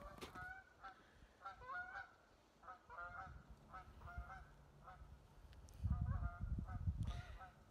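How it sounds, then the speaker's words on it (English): Geese honk repeatedly in uneven clusters along a trail edge, moderately distant, with a low rumbling rustle swelling near the end. "The geese are back."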